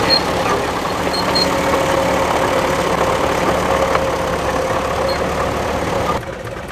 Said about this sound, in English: some of the tractors are on the move heading out to the lorry park